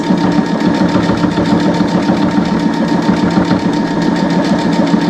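A sewing machine stitches a Valentine's Day quilt wall hanging, its motor whirring steadily and loudly with a fast, even mechanical pulse throughout, no voices.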